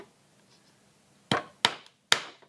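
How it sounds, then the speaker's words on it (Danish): Headless finishing nails driven into wood with a hammer while a box is assembled: three sharp, close strikes spaced about a third of a second apart, each ringing briefly after a quiet lead-in. "Du starter med at slå dykkerne i alle de steder, hvor du har mærket."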